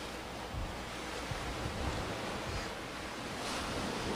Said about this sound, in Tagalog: mas ramdam yung pag-ihip ng hangin sa bahaging ito ng Laguna Lake